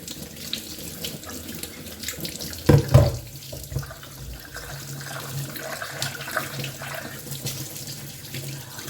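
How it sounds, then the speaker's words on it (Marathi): A stone mortar and pestle is rinsed under a running tap, a continuous close splashing stream with a brief louder clatter of stone and water near the middle. "तर स्वच्छ पाण्याने असं आपण धुवून घेऊया खलबत्ता"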